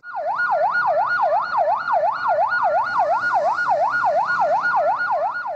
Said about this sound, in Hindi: यही नहीं, एम्बुलेंसेस भी ट्रैफिक जैम में फंस गईं।